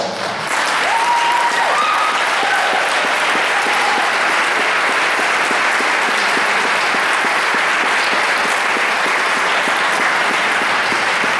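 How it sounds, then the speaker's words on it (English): An audience at a Belleville board of education meeting bursts into sustained clapping, a loud, continuous patter of many hands in an indoor hall that keeps an even level for about eleven seconds. "The people that are here tonight, that are clapping"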